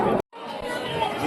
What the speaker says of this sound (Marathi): गर्दी बघू शकतो